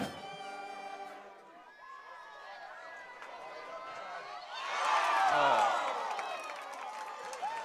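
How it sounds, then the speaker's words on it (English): High school football crowd at Merritt Island Mustangs at Satellite Scorpions swells into a loud cheer midway, broad and roaring, then settles back under steady announcer-style talk and stadium noise. "That woke this crowd up."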